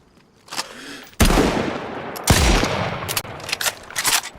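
Gunfire in DayZ: a few isolated shots, then heavy loud bursts of rapid firing with echoing tails, followed by scattered sharp reports, close and forceful.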